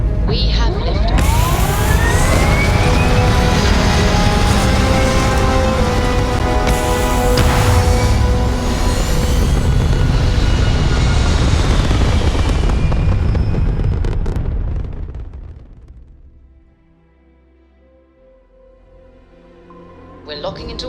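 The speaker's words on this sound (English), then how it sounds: "We have liftoff." A spaceship lifts off in Starfield with a loud, sustained rumbling roar and rising engine whine that builds and holds for about fifteen seconds before fading away into near silence, with a brief swell returning at the end.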